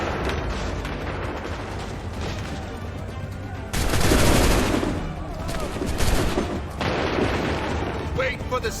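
A sudden loud musket volley erupts in the video game Assassin's Creed III, a dense crackling burst over battlefield din, followed by a second smaller burst amid ongoing crowd noise.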